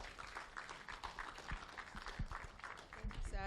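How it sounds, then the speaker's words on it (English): Applause rises from the audience at a youth, peace and security conference in Nigeria as a sustained patter of many hands clapping, with a voice talking over it. "Please, if you're clapping for Nigeria, clap very well."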